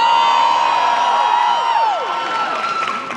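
A convention panel crowd cheers, whoops and claps in a big hall, with many voices together. The sound is loud at first, then fades a little as it settles.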